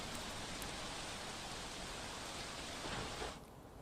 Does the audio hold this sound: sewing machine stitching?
no